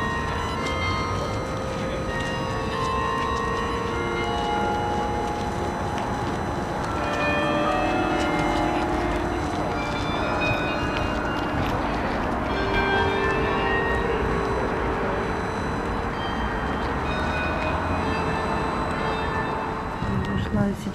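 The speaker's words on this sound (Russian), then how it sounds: "Ну, слышно, какой звон красивый?" Bells ring out at Jaani church in Estonia, a dense, continuous peal of overlapping tones sustained throughout, with a voice speaking briefly over the ringing.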